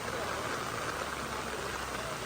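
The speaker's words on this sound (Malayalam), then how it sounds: "ദാ നല്ല മഴയും വന്നു അതിശക്തമായ മഴ" Heavy monsoon rain pours down steadily on a riverside fishing spot in Kerala, a dense, continuous hiss filling the whole moment with no break.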